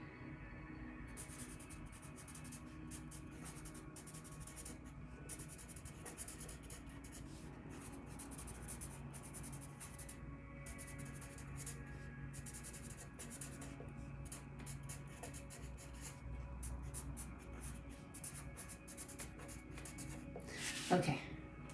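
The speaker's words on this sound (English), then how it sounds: "they gave me one more thing to write down for the description." Pen writing on paper, heard as a soft continuous scratching that runs steadily throughout, close and faint, with a brief louder rustle near the end.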